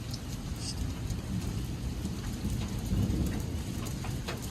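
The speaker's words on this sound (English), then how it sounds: "there's definitely hail falling on this" Hail and heavy rain pound down during a severe thunderstorm in Edwardsville, Illinois, a dense steady clatter with scattered sharper impacts over a low rumble, close and continuous.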